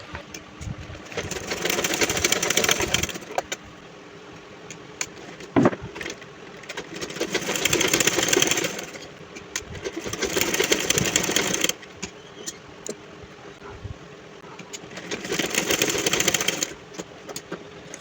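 Sewing machine stitching the folded edges of a fabric pillow cover, running in three steady motorised bursts of a few seconds each with quieter pauses between them.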